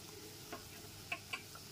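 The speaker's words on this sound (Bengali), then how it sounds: "এবার সমস্ত মশলাটা খুব ভালো মতো একবার মিশিয়ে নিচ্ছি।" Ground coriander, red chilli and garam masala powders stirred in a pan over a low gas flame, soft faint scraping with a few light clicks of the spoon against the pan.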